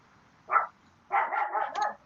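A Chihuahua barks nearby, a single sharp yap followed after a short pause by a longer run of rapid, high-pitched barking.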